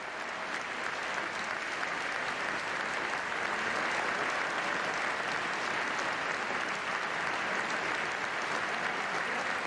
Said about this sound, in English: His remarks were interrupted more than 30 times for applause